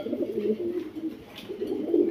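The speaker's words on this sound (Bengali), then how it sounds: "এখানে আছে একজোড়া লালদম কবুতর" A pair of Laldom pigeons with red tails coo in low, rolling phrases, close and steady, with a brief pause before the murmuring resumes.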